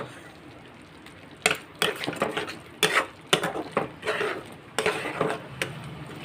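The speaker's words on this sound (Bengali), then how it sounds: "ভালো করে 4-5 মিনিট আমি মশলাটাকে কষিয়ে নেব।" A spice paste for a dry potato curry is stirred and sautéed in a pan over a low flame with a splash of water: repeated close scraping and knocking strokes from a spoon against the pan, at an irregular, busy rhythm.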